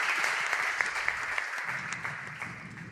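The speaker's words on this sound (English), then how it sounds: "they're giving lots of applause for our friends here today" Crowd applause at an ESL headquarters esports event for Clash of Clans, steady dense clapping that slowly fades, with a commentator talking over it.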